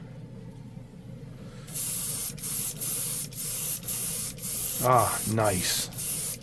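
A spray gun lays down the final coat of a tri-color paint in a booth, sending repeated loud hissing bursts separated by short pauses, with a brief spoken exclamation partway through.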